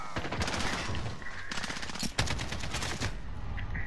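Rapid shotgun blasts in a PlayStation 4 shooter, a dense run of loud repeated shots with a sharper crack partway through, close and continuous with faint talk underneath.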